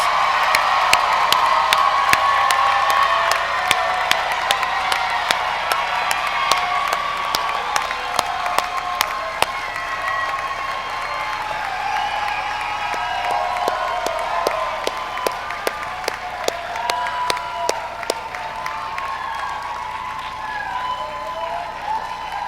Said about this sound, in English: one more round of applause for your loved ones